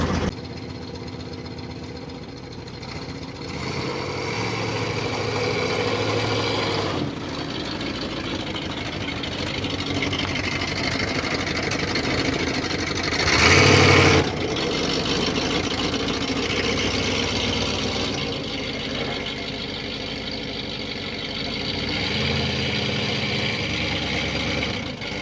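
Engine of a 1963 Oldsmobile running steadily, a continuous mid-low rumble close by with a brief louder surge partway through, settling back to an even idle-like drone.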